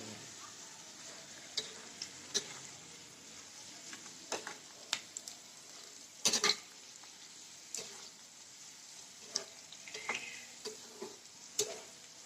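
Sweet corn kernels, boiled and peeled, crackle while they deep-fry in oil and get stirred. There is a steady soft sizzle with scattered sharp pops and clicks throughout, fairly quiet and with no talking.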